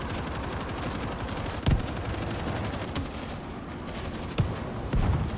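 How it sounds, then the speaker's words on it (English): Mounted weapon firing in the zombie shooter World War Z, a dense continuous rattle of rapid automatic fire with a few heavier punches standing out, loud and close, no voices. "I just found a mounted weapon looking over this way."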